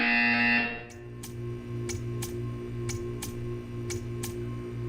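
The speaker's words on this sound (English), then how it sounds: "When you hear the buzzer, stare at the art." In the video game Portal 2, a loud electronic buzzer sounds briefly at the start, followed by a steady hum and a regular series of sharp ticks.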